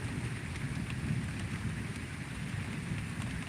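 Rain pours steadily through a bad night storm with lightning, a dense, constant hiss with low rumbling beneath it and faint crackles. The sound is even and continuous, with no voices.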